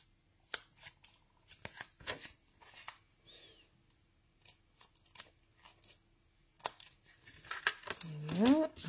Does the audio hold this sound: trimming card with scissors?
yes